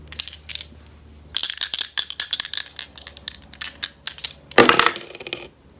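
Dice tumble and clatter on a hard surface, a dense run of sharp close rattles and clicks ending in a louder final burst.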